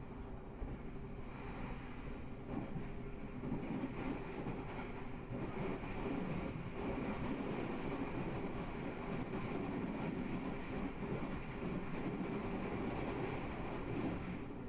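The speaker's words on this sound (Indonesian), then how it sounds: "KA Blambangan Express melintas di depan tebing Sanggrahan." KA Blambangan Express running past the Sanggrahan cliff, a continuous heavy rumble of wheels and carriages holding steady and loud for the whole stretch, with no voices.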